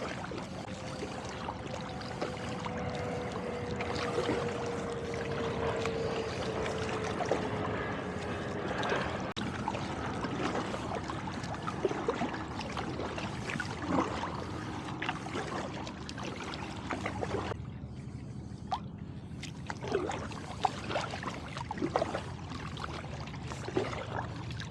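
Kayak paddling across a lagoon around small islands at Pelham Bay Park in the Bronx, soft water splashes and drips from paddle strokes, faint and close, over light ambient wash.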